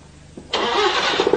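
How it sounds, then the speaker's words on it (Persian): An Iranian Paykan car engine cranks briefly and catches, jumping into a loud, close running roar with a few uneven pulses as it settles. "موتور روشن بکن."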